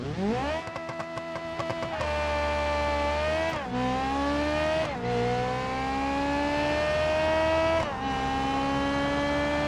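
A stock front-wheel-drive Covet's engine revs hard in a BeamNG drag run, rising through the gears with sharp dips at each shift, loud and close with no talk.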